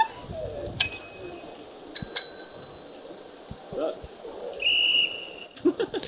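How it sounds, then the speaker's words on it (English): Several different bicycle bells on a bike at a women's cycling race, rung one after another in short bright dings and a longer trill, with people chatting around them. "Which of my 4 bells is your favourite?"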